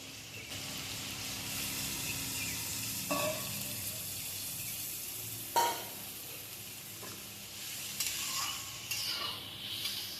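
Rohu fish curry sizzles steadily in a pan with turmeric added, broken by a few clinks and a brief splash as water goes in, followed by quieter bubbling once the pot is covered.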